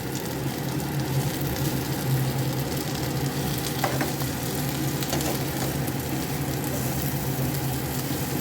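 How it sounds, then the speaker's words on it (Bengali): Food frying in Fortune white oil in a pan, a steady, close, dense sizzle that holds level throughout with no talking. "হোয়াইট অয়েলে আমি ফ্রাই করছি।"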